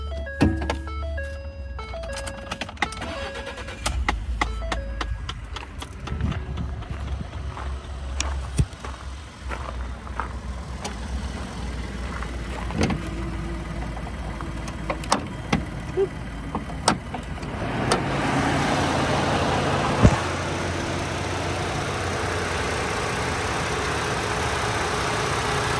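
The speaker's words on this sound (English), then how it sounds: "Pop the hood and I'll start it up." A 2012 Ford F150 pickup engine cranks, starts and settles into a steady idle, with a continuous close engine rumble and a rougher surge late on. No one talks.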